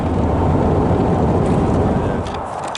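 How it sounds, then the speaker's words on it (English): A loud, steady broadband rumble of traffic noise with wind buffeting, fading slightly toward the end. "Sorry for the car noise,"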